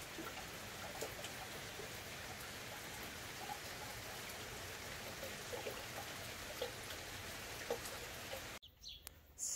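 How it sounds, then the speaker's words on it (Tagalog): Steady rain falling on petunia plants in a garden on a hot-season day, a constant soft hiss with scattered drops, faint and continuous before a sudden cut near the end. "So eto guys yung video nung umulan ng isang araw."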